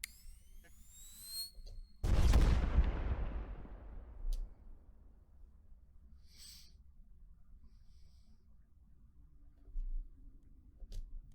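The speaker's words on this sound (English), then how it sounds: "Only the massive explosion and all the robots being sliced to bits." A massive explosion in the video game The Evolving World: Catalyst Wake bursts suddenly and loud after a thin rising electronic tone, then rumbles and fades away over several seconds. Quieter game ambience follows.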